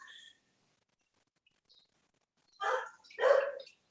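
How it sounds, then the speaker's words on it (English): A pet dog barks twice in quick succession nearby, in a home kitchen, with a brief faint sound just before. "My dog's barking in the background."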